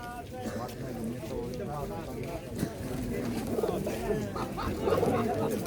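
Pigeons coo at an outdoor pigeon market in Radom, Poland, on Lubelska Street, a soft low continuous burble from many birds running under steady market chatter and someone talking close by.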